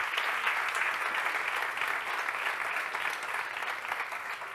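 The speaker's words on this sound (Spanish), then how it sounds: "Un fuerte aplauso para él." Steady audience applause fills a conference hall after a sustainability talk, a dense, even wash of clapping heard alone and at moderate distance.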